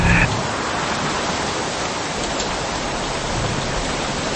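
Steady, dense hiss of heavy rain pouring continuously, loud and close, with no breaks or other sounds.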